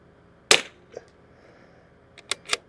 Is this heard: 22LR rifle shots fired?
yes